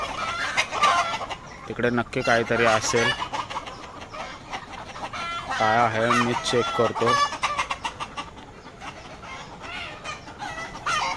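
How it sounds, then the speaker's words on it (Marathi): Chickens on a poultry farm cluck and call loudly in agitated bursts, rising and falling throughout, while someone speaks over them nearby. "सर्व कोंबड्या आवाज देतात"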